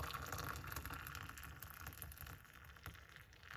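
Rosemary and lemon tea pours steadily into a cup as a quiet, continuous trickle and splash that eases off slightly toward the end.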